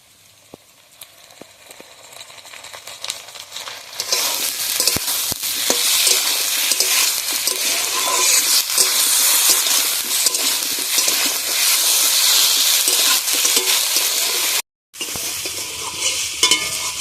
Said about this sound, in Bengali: আদা রসুনটা দিয়ে আমি ভালোভাবে ভেজে নিয়েছি আলুটা